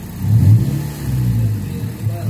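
Mazda MX-5 Miata engine revved while parked with no load, a near, loud mid-pitched rev swelling early then holding and dipping before rising again.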